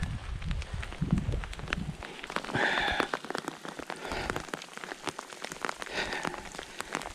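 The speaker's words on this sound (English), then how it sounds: "oh, those are big cold raindrops, that's for sure" Big, cold raindrops patter and thump onto a hiker's hat and gear on a backpacking trail in Utah's Uinta mountains, an irregular close drumming of drops with no talk.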